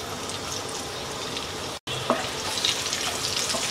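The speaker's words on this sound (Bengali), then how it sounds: "তেলটা গরম হয়ে গেছে, দিয়ে দিচ্ছি মিডিয়াম সাইজের 2টা পেঁয়াজ কুচি।" Two medium chopped onions sizzle loudly in hot oil, a steady hissing fry with a brief silent cut midway before the crackle resumes.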